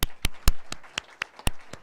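An audience clapping at a Wisconsin Assembly District 1 candidate forum: about eight sharp, separate claps at a steady, even beat, close by, with no talk.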